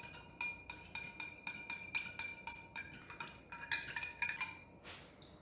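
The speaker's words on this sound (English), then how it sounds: "I'm going to go ahead and stir it." Stirring a wine making solution rings out as a rapid run of bright, regular clinks of a metal utensil against a glass vessel, close and fairly quiet, ending with a softer knock.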